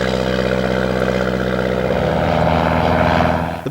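A WW1 Pfalz D.III biplane runs its propeller engine loud and close on a grass field, a steady droning roar with throbbing harmonics that holds, then swells slightly before cutting off sharply.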